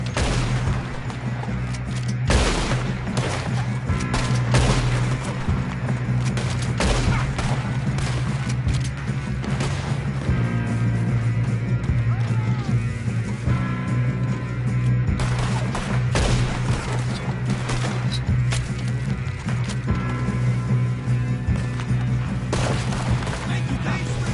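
Rapid gunfire crackles through a Red Dead Redemption 2 shootout against O'Driscoll gang members on PS5: dense, overlapping shots and booming reports in a steady, loud barrage lasting throughout, with occasional voices mixed in.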